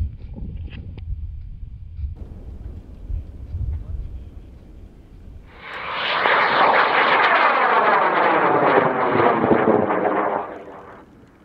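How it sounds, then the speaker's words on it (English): A model rocket on a Gorilla 75mm M1355 motor ignites and launches with a loud roaring rush that builds and holds for several seconds and then fades, after brief talk and ambient noise at the start. "this rocket is launching in 5, 4, 3, 2,"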